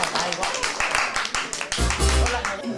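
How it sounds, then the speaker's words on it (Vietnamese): A crowd claps for a newlywed couple at a Vietnamese wedding ceremony, a dense patter of hand claps running throughout, with voices talking over it and a low rumble swelling near the end. "xin quý vị hãy dành một tràng pháo tay thật lớn để chúc mừng cho hạnh phúc lứa đôi"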